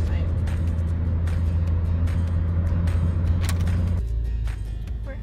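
Car driving on the road on a trip to Yellowstone: a steady, loud engine and road rumble fills the interior, with scattered clicks and bumps. It drops suddenly to a quieter hum near the end, and a voice talks under it.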